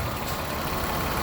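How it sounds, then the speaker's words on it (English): A 2007 Toyota Highlander engine idles steadily in a continuous, even rumble that stays moderately quiet and close throughout, with no talking over it. "Shot with the motor running."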